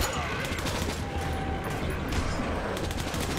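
In Metro 2033 Redux, 5.56 rounds are fired at ghouls in a loud, dense, continuous burst of automatic gunfire lasting several seconds without pause.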